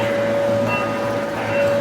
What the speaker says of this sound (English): that's a log train